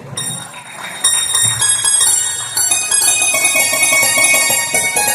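Bright metallic bell tones ring out repeatedly during a Hindu food offering, in a dense, sustained cluster, loud and close, with jingling overtones and no talking.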